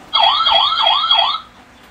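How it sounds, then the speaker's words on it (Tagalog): A police car siren from a toddler's electronic sound book wails in fast rising and falling sweeps, four quick cycles, loud and close, then cuts off abruptly into quiet. "police car"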